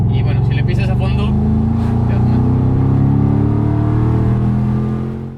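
A Ford Mustang V8 Roush at full throttle, its engine note climbing steadily in pitch as it pulls hard, loud and close for several seconds before easing off at the end.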